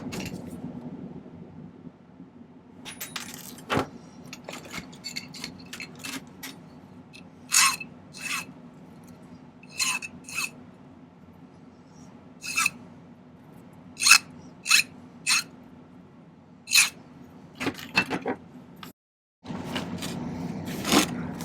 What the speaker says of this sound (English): So I'm going to go ahead and cut this off.